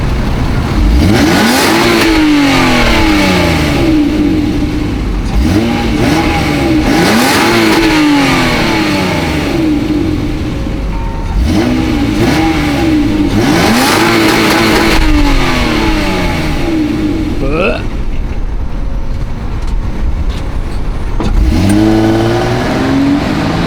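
Toyota Chaser JZX90 drift car with a JDM engine, revved hard repeatedly and close, each surge rising then dropping into crackling exhaust pops, in a steady loud rhythm over roughly twenty seconds.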